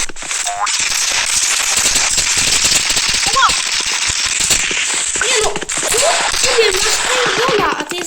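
Rapid bursts of paintball gun shots in the shooter game Rivals crackle almost nonstop, sharp and close, while someone talks over them.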